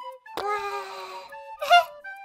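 In an animation, a cartoon duck gives two short, nasal, honking quacks with a brief gap between them, clear and up close.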